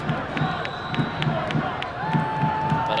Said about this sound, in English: Crowd here at BBVA Field unhappy with the lack of the offside flag from the assistant referee